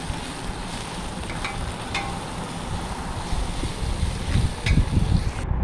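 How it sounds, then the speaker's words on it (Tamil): Curry leaves, green chilli and ginger garlic paste sizzle steadily in a pan, frying close by with a soft hiss. Occasional stirring scrapes against the pan and grows slightly louder toward the end. "அது நல்லா வதங்கி விட்டுட்டு இப்போ தான் இஞ்சி பூண்டு பேஸ்ட்டு போட்டிருக்கேன்."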